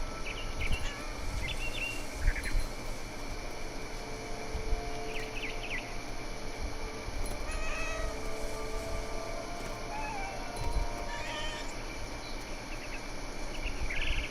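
A cat meows amid a game scene in What Remains of Edith Finch, with insect chirps and bird calls forming a constant outdoor ambience; the meows are faint to moderate, scattered over the span.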